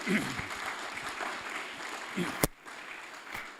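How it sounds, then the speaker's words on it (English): At a gala evening, an audience breaks into fairly faint applause that fades within a few seconds, with speech mixed in and a sharp click near the end. "give her a round of applause"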